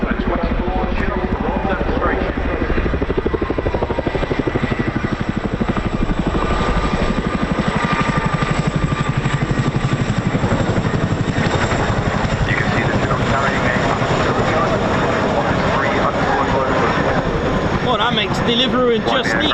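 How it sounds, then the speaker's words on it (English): A Chinook helicopter flies a roll demonstration at an air show, its twin-rotor thump and turbine roar loud and unbroken throughout, dense and steady with a slight shift as it maneuvers overhead. "please turn your eyes to the sky for the 2024 Chinook roll demonstration"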